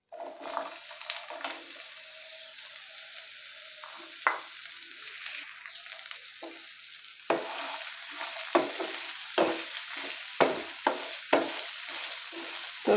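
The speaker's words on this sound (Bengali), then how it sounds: "তো তেলটা গরম হয়ে আসলে এতে সবগুলো উপকরণ দিয়ে একটু ভেজে নেব" Ingredients fry in hot mustard oil in a pan in a village kitchen, giving a faint, steady sizzle marked by repeated scraping stirs that grow busier partway through.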